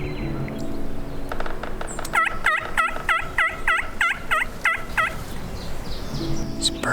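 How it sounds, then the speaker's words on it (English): A wild turkey gobbler gobbles in a rapid rattling burst of about eight notes, moderately distant, over steady wind noise in an open outdoor setting in Manitoba. "There's at least 3 gobblers"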